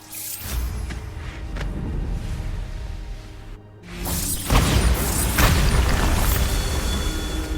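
Blasting Bombarda spell in Hogwarts Legacy: a loud booming explosion with rumbling debris, a brief lull, then a second heavier blast swelling and lingering in dense rumble.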